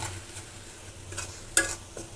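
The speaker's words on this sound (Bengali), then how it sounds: "এখন নাড়াচাড়া করব মশলাটা কিছুক্ষণ ভাজা ভাজা হবে" Spice paste for a pangas fish curry fries in a pan over a raised gas flame while being stirred. Soft sizzling runs under scraping strokes, with a sharp metallic clink partway through and no talking.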